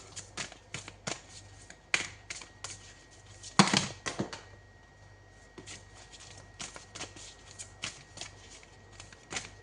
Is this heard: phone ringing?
no